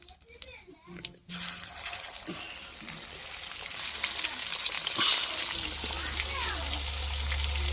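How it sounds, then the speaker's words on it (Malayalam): River fish frying in oil over a wood-fired stove, a steady broadband sizzle that swells after a brief quieter start with light clatter, then holds loud and continuous to the end. "നമ്മൾ വിറകടുപ്പിലാണ് മീൻ വറുക്കാൻ പോകുന്നത്."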